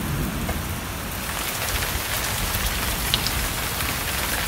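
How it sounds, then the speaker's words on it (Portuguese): Steady, gentle rain falls on a farm plot in the countryside, a dense even hiss of drops on surfaces with no talk over it. "Agora tá chovendo de verdade, ó. Começou a chuva."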